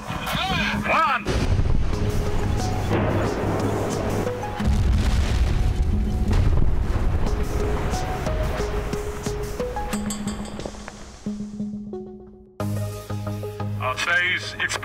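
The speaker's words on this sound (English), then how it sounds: "Today's explosion proved very successful, and as you can see, the northern tunnel of the nuclear test ground was completely destructed" A blast demolishes the northern tunnel of North Korea's Punggye-ri nuclear test site, a heavy distant boom rolling into sustained rumbling and debris noise, with clinks, speech and a cut to other sounds later on.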